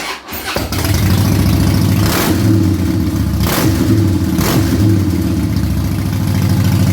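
A 2009 Harley-Davidson FXSTC Softail Custom engine cranks and catches, then settles into a steady, loud idle that rumbles on without a break.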